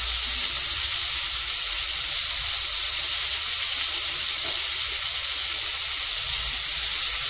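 Tomatoes sauté with salt in a pan for a quick gravy, giving a constant close hiss and sizzle that runs without a break and has no voices over it.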